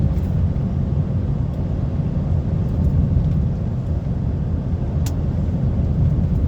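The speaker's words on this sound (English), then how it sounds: "Just keeping it on this retarder now," A loaded HGV descends a hill on its retarder in heavy rain on the A9 in Scotland, heard from inside the cab as a loud, constant low rumble and drone.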